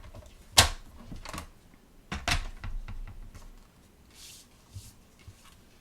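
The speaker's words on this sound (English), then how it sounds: "So now let's take and trim off so that we have a nice clean edge over here." Paper trimmer cutting the edge off a piece of cardstock for a handmade card base: two sharp slicing strokes a moment apart, close by, followed by light handling rustle and taps, no talking.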